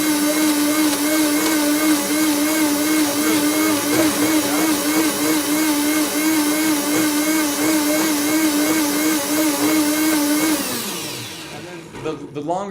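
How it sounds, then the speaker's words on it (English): A high-speed Blendtec blender whirs loudly as it blends almonds into nut milk, a steady dense motor drone that holds for several seconds before winding down near the end. "The blender, it just goes at such a high speed."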